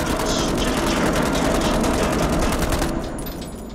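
Rapid gunfire from the video game Man of Medan, a dense, loud burst of repeated shots that rattles steadily for about three seconds before fading.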